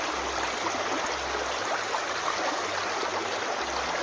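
A stream flows steadily at a spot picked for setting up a gold sluice box among wild rhododendrons, giving a continuous close rushing and babbling wash with low gurgles.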